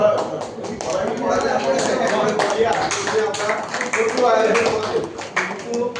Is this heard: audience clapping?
yes